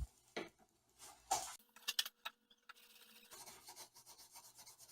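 Fine abrasive rubbed over an antique spoke shave during restoration, producing a few close, faint rasping strokes and scratchy rubs with quiet gaps between them.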